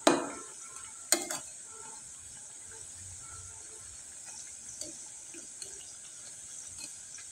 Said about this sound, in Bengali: আর একটু সময় নিয়ে কিন্তু আমি মুচমুচে করে ভেজে নিচ্ছি